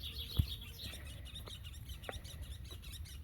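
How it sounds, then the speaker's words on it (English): Morning birdsong in a garden, with a few faint, brief chirps scattered over quiet low background noise and one soft thump near the start. "Hear the birds, morning bird song,"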